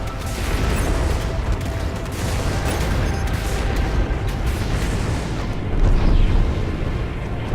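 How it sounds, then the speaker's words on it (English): Plasma fire destroys flak turrets in the space combat game Strike Suit Zero, with a continuous loud roar of explosions and rumbling booms that swell near the end, no talk. "You chain link plasma it down. Flak turret's destroyed."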